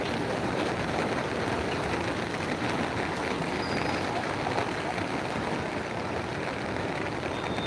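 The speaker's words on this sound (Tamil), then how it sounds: "திருவண்ணாமலையில் வந்து பார்த்திங்கன்னா காலையிலேருந்தே மழை பெய்யுதுங்க" Rain falls steadily in Tiruvannamalai, a soft, continuous wash of fine hiss with faint scattered patter, fairly quiet and unchanging throughout, with no voices.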